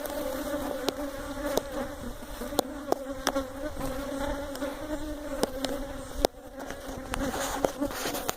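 Honey bees buzz at an apiary in a dense, continuous drone, with sharp clicks and ticks scattered through it and no voices.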